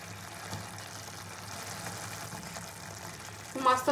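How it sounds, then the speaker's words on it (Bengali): Fish curry gravy for Bhola fish kosha bubbles in a pan on the stove, a continuous soft simmering hiss with a brief louder clatter near the end and no voices. "ঝোলটা আমার ফুটছে, এখন আমি মাছগুলো ওপর থেকে দিয়ে দেবো।"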